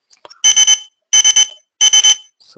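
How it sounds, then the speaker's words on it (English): A Zebra barcode scanner gives three loud, close bursts of high electronic beeps, each a rapid run of about three or four tones, separated by short silences. "I'm going to beep the scanner now."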